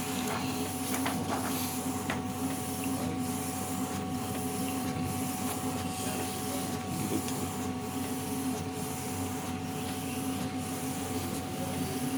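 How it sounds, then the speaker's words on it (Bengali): A roll-to-roll backlit photo printer making prints for LED photo frames runs with a continuous mechanical hum and hiss, marked by faint regular pulses as the print head passes. "ব্যাকলিট ফটো প্রিন্ট, যেটা আমাদের এলইডি ফটো ফ্রেম হিসেবে ব্যবহার করা হয়, তার প্রিন্ট আমাদের এই মেশিন থেকে হচ্ছে।"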